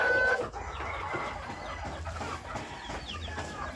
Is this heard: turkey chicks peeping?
yes